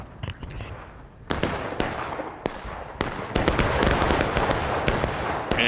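Booming cannon fire from Civil War artillery in a video game battle, with scattered sharp blasts early that grow into a dense, continuous rumble of overlapping shots and explosions.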